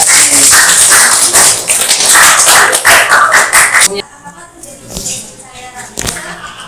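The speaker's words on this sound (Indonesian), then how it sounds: "tepuk tangan untuk kelompok" A classroom group of students claps for a few seconds, close and lively, with voices mixed in; the clapping thins out and scattered claps trail off.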